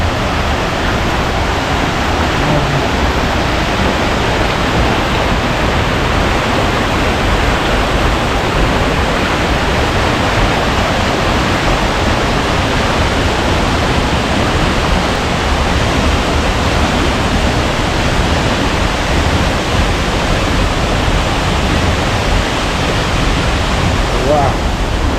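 Lone Creek Falls in Sabie pours in a constant, loud, broadband rush of falling water that stays close and unbroken throughout, with no clear talking.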